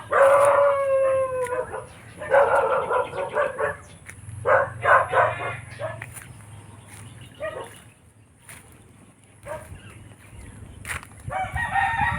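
Dogs bark and howl in irregular bursts outdoors in a wide open area, with a rooster-like crowing cry mixed in and short quiet gaps between the calls.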